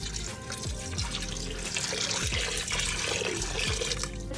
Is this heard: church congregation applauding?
no